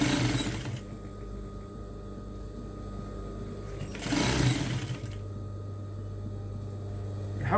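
A tailoring sewing machine stitches a curved seam in short bursts, a brief whirring run at the start and another around the middle, separated by a low steady motor hum.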